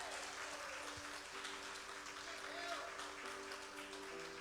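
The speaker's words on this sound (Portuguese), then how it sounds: "Aplauda Jesus pela vida deles." A church congregation at a couples' conference in Belém claps, faint and distant, partly blended with voices and a low hum.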